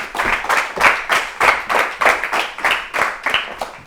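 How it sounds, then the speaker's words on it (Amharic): An audience claps for a contestant on a children's television show, with rhythmic, loud, evenly spaced claps close to the microphone and no talk. "አጨብጭቡላት፣ አጨብጭቡላት።"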